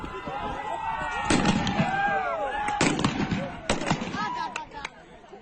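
Gunfire is exchanged between Iranian forces and protesters on a street in Kermanshah province, with several sharp shots at irregular intervals amid shouting voices and echoing noise.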